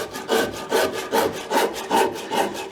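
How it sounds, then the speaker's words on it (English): Rough side of a saw rasp hogging material off Irish oak end grain while shaping a dough bowl, rhythmic scraping strokes about twice per second, close and clear. "I'm just using the saw rasp, the rough side, just to kind of hog off as much material as I can"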